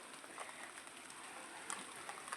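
Soft, steady rain patters on the leaves of a mango tree, a faint even hiss with occasional drips and no voices.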